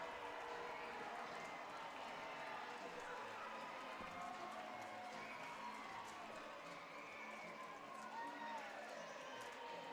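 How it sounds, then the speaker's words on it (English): An ice hockey crowd at Mulder Arena cheers after an Arizona State goal, a broad, fairly distant roar sustained evenly for about ten seconds. "you can feel the crowd here at Mulder Arena going bonkers"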